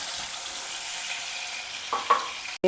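Chopped okra and slit green chillies stir-frying in hot oil, giving a soft, steady sizzle with a few brief louder crackles, no voices.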